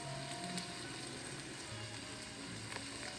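Garlic and onions frying in a pot for an Italian sausage soup, a steady soft sizzle and crackle that holds evenly throughout with no talking.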